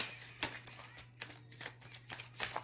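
Tarot cards are shuffled by hand in repeated riffling bursts, close and crisp, against a low steady background hum.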